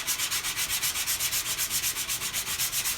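A Toyota Supra car body being sanded by hand: fast, even back-and-forth strokes in a steady scraping rhythm, close and continuous, with no voices.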